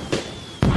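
Fireworks going off outdoors at a viewing spot, with two loud booming bursts about half a second apart, the second one the loudest.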